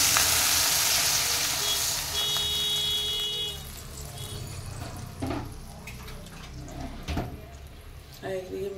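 Water poured into a pan of frying soybean chunks: a loud sizzle at first that dies down to a quieter bubbling, broken by a few sharp clinks and knocks, with some faint background voices.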